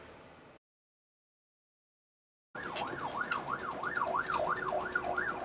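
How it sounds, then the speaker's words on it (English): Wailing ambulance siren in the War Thunder video game, a steady oscillating rise and fall heard mid-distance after a brief silence, sitting over a dense background of battle noise. "I can hear the ambulance again in the background"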